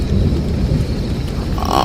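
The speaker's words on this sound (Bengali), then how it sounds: "বাইরে তাণ্ডব চালানো ঝড়ের গর্জন শোনা যাচ্ছিল" A loud, deep rumble of a thunderstorm outside, heard from indoors, with heavy rain noise, a continuous roaring wash and no one speaking.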